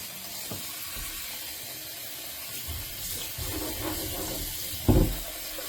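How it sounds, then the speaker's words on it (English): Tap water pours over oxtails being rinsed in a pot, a steady running-water hiss in a kitchen with a few sloshes and clunks as the meat is handled, ending in a louder splash; no voices. "And we're going to rinse the oxtails until the water is nice and clear."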